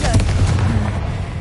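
The Confringo spell goes off in Hogwarts Legacy as a loud, close booming blast with a rumbling low tail that stays heavy through the brief moment.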